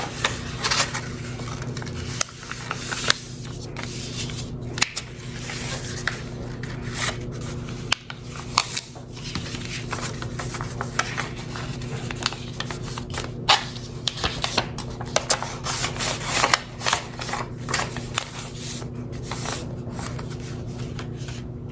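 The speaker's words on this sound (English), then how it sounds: "Be sure to fold up the completed ballot form into a smaller fold" Crisp paper rustling and crinkling as a completed ballot form is folded and slipped into an envelope, near and steady, with frequent sharp crackles and no talk.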